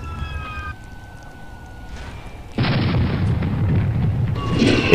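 A cannonball fires from an airship in the video game Air Buccaneers, a sudden loud broadband boom that swells into a sustained rumbling roar after a quieter stretch of faint tones, with no talk.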